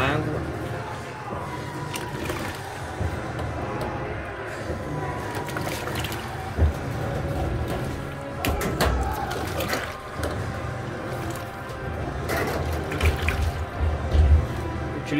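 Pre-wash water runs from an LG Turbo Drum 8 kg washing machine (T7503TDFP1) washing bedding, a steady trickling and splashing flow with a few soft knocks, heard under a person talking.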